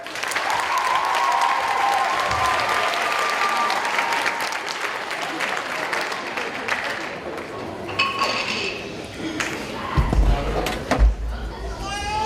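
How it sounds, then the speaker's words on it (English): Audience applause at a school talent show, sustained and even for several seconds before thinning out, with scattered thumps and clinks and a few voices toward the end. "let's give a warm round of applause to Skyla Smith"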